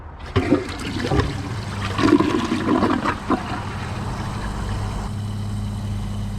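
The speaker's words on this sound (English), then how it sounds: "let's give it a flush." A 2008 American Standard Champion 4 toilet is flushed. A sharp lever clunk is followed by a loud, powerful rush and gurgle of water that settles into a steady hiss as the tank refills.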